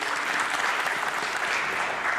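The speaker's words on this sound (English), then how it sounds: "Let's give Ms. Kumalo a big round of applause" A room audience applauds Ms. Kumalo at a ministerial visit event, a steady, dense wash of clapping that holds evenly loud from start to end with no voices over it.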